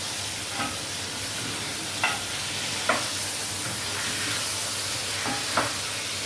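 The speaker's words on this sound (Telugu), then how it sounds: "బాగా గోల్డెన్ కలర్ వచ్చే వరకు వేగాలండి." Chicken sizzles steadily in a hot pan with turmeric while a spoon scrapes and stirs it toward golden brown, giving a constant frying hiss broken by a few sharp utensil clicks.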